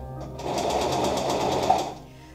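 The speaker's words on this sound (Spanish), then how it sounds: "nos vamos a ir directamente a la máquina" A sewing machine stitches fabric (dress lining and outer cloth) in a steady, continuous whir lasting a couple of seconds, close and fairly loud, with no talking.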